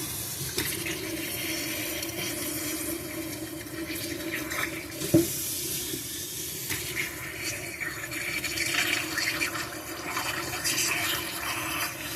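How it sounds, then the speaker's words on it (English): Water hisses and sprays steadily at close range through the passages of a Briggs and Stratton small-engine carburetor, rising and falling as the stream shifts, with a brief clunk partway through. "You want to see water shooting out here"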